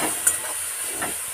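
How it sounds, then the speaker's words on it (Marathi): Crushed green chilli paste with garlic and turmeric sautéing in a pan for lemon pickle, a steady hissing sizzle with a couple of faint stirring scrapes, close and continuous with no talking. "त्यानंतर थोडीशी हळद आणि आपण जे मिरच्या बारीक केला ठेचा तो चांगला टाकायचा आणि चांगला परतून"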